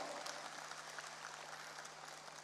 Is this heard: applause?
yes